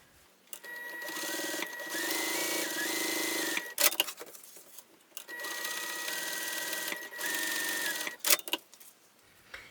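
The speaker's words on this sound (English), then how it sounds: "I'm going to top stitch 1/8 of an inch away on the lining also" Sewing machine top stitching a tote bag, running in two steady whirring bursts of rapid needle chatter, each ending with a few clicks and clunks as the fabric is adjusted, close and moderately quiet, no talk.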